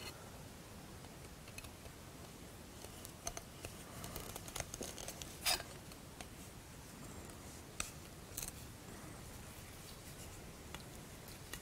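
Quiet snipping and rustling as string wound over double-sided tape on a wooden blowgun tube is cut to length, with a couple of crisp cuts standing out against a soft hiss.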